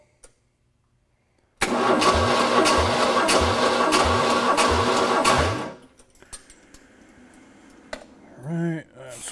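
An engine cranks during a compression test: a loud, close starter churn with a steady chugging rhythm for about four seconds, then it cuts off, followed by quieter background noise and a short voice.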